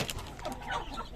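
Hens clucking at close range on a small farm right after being shut into their coop, a short continuous run of soft overlapping clucks with no talking.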